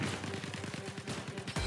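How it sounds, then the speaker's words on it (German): Rapid gunfire in the video game Star Citizen, a dense rattling burst of many shots in quick succession, moderately loud and fairly close, with no voices. "Ich höre Schüsse."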